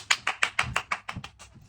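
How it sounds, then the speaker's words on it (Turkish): A single pair of hands claps about nine times at a quick, even pace, crisp and close, the last few claps fading slightly softer. "Hadi bir alkış anne"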